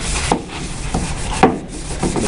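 A gold pan's riffles are scrubbed by hand, making close, loud rasping strokes with a few sharper scraping hits in an uneven rhythm over a steady rubbing hiss.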